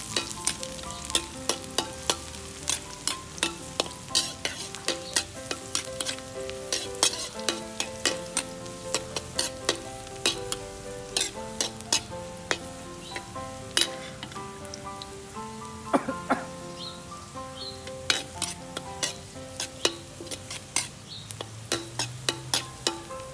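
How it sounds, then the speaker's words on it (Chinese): Garlic and dried chilies stir-fried in hot oil in a pan give a steady sizzle, broken by frequent sharp spatula scrapes and clinks that continue throughout, close and with no talking. "接下来我们起锅，倒入一点油啊， 先炒一下我们的大蒜还有干辣椒。"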